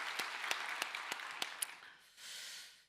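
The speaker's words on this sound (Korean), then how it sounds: "좋으신 하나님께 영광의 박수를 올려드리겠습니다" A congregation claps during a Korean Sunday worship service, the claps sounding as faint, evenly spaced sharp strikes in a regular rhythm that give way to a soft, brief rush of noise at the end.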